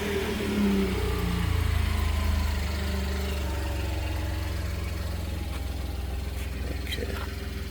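A stock Chevy Colorado engine idles steadily and close up, a low continuous rumble with an even, unbroken tone and no talking over it.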